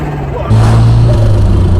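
Turbocharged car changing gear, a sudden loud burst of turbo chatter and engine noise cutting in halfway and holding steady close to the listener.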